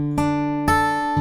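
An acoustic guitar fingerpicks a chord shape with the index finger lifted, three plucked notes spaced evenly and ringing into one another, close and unaccompanied.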